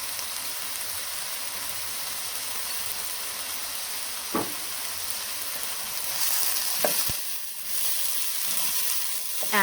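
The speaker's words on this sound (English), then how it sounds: "And we'll stir it around for a little bit as well." Peas with green seasoning sizzling steadily in a hot pot for rice and peas, with a few brief scraping stirs of a spoon cutting through the constant frying hiss.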